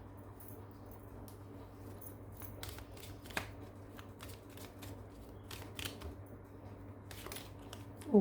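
Tarot cards being shuffled and drawn, giving soft intermittent riffling and flicking sounds that are faint and close over a low steady hum, with no voices.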